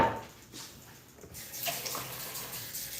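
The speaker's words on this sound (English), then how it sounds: "I just like to rinse everything down, wipe everything down. I'm gonna give this bowl a quick wash." Water from a kitchen tap runs steadily while a bowl is rinsed under it, a soft, continuous splashing rush that stays fairly quiet throughout, with no voices.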